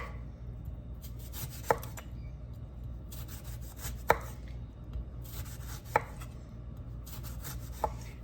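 Knife cutting through a lemon on a board, four sharp slicing chops spaced about two seconds apart over a steady low background hum.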